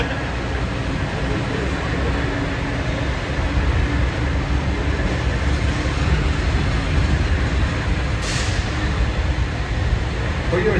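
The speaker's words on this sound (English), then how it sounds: "keeping your hands, arms, feet, and legs inside while the tram is moving" Disneyland tram carries riders toward Downtown Disney, a steady loud rolling rumble and road hum throughout with no distinct breaks.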